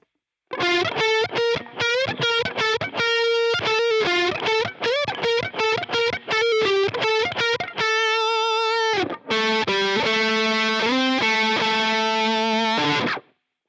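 An overdriven electric guitar solo in standard tuning: rapid picked runs, then trills and held, bent notes, loud and unaccompanied, ending after about thirteen seconds.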